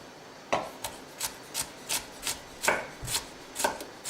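A knife dices vegetables into small pieces on a cutting board, with about ten sharp chopping strikes in a steady rhythm, close and alone.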